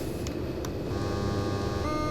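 CD 163 electric locomotive in the SimRail train game, emitting a steady electrical hum and buzz with a thin high-pitched whine emerging partway through, faint and continuous under a low rumbling drone.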